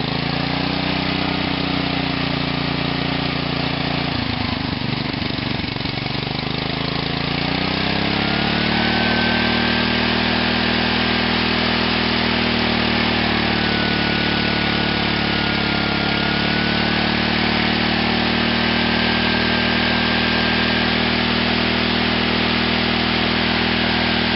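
A small OFNA nitro engine idles continuously after carburetor tuning, a steady loud buzzing drone with a dip and wobble in pitch early on before settling into an even, slightly shifting hum.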